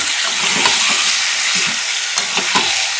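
Meat and potatoes seasoned with salt and turmeric fry steadily in a pan, a dense continuous sizzle with soft scraping stirs and a few sharp clicks of the utensil, no voices.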